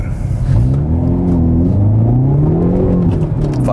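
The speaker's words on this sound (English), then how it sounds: "I'm gonna go right and get some more acceleration." A 2019 Hyundai Veloster N accelerating hard, its engine note climbing steadily in pitch, loud and close from inside the car, with a brief dip in pitch partway through.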